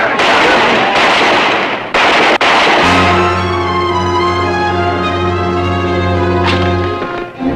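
Rapid loud gunshots crack in quick succession right after a shouted order to fire, followed by a sustained ringing tone as the shots stop, in an old 1962 television drama.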